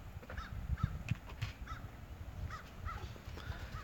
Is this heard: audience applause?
no